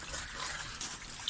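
Water runs in a steady, close gush with a bright hissing splash, continuous and alone, pooling where it has no room to drain.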